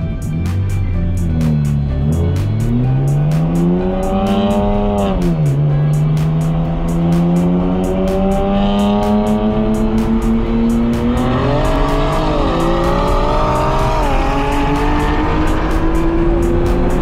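A Nissan GT-R race car, including an HKS 2.8L stroker RB28-powered GTR and a 1200hp R35, launches on a drag strip, its loud engine climbing through repeated revving and acceleration sweeps with tire noise and no talk.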